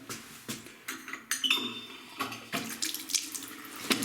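A bathroom tap runs with a strong, steady gush of water, spluttering and surging unevenly as air bursts through the flow.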